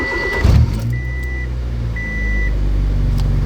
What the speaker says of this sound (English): We'll quickly start the car up just so we can hear what it sounds like before the turbo and then after